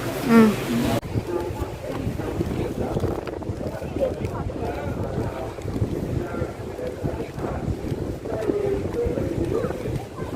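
Boat ride on open water at Rameswaram, with a steady rushing of wind and water and a continuous engine drone, and people talking throughout.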